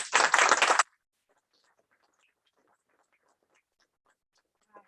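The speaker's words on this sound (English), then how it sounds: "Let's just give Jennifer a big round of applause" At a book launch, a short, loud burst of dense applause for the author lasts under a second and then cuts off into near silence.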